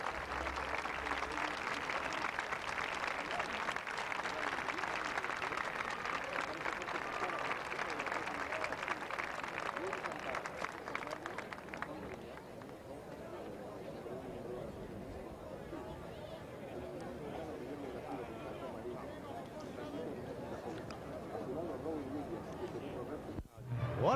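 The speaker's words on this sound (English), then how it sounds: "Listen to this crowd." A packed stadium crowd roars and claps at the 1982 Palermo final between Coronel Suarez and Santa Ana. The dense, sustained cheering and babble thins slightly partway through but stays loud throughout.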